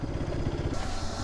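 A Bajaj Pulsar RS200 motorcycle engine running close by, a steady throaty rumble with slight pulsing through the brief moment, no talking over it.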